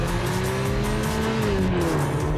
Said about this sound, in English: The Volkswagen Tiguan, the only compact SUV with a turbocharged engine standard.